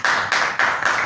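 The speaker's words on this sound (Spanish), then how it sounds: "podemos aplaudirlo ahora sí" Audience applause at a talk or lecture in a room, steady dense clapping from many hands that swells in a few waves, close and fairly loud with no voices.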